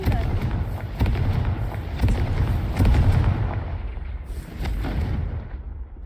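Booming fire-spell blasts from Confringo in Hogwarts Legacy, several loud explosive bursts in quick succession, each with a deep rumbling tail, with no voices.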